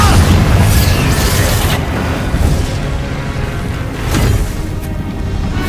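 Spell blasts from the Confringo and Bombarda curses in a video game: dense, loud booming explosions that roll continuously with a few sharper bursts, filling the whole stretch without pause.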